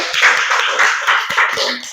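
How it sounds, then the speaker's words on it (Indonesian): Classroom clapping, a quick scattered round of hand claps from a small group of students, close and fairly loud, lasting about two seconds. "Oke, beri tepuk tangan."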